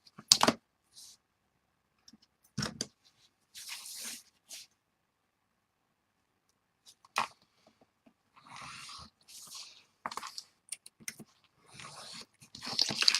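Scissors cut out paper in short bursts of snipping and crinkling, close and sparse with silent gaps between cuts.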